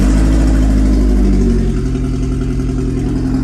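A car engine with 64,000 miles and an engine management light on runs loud and close, a rough low drone that rises in a rev before settling back into a steady idle with faint clatter.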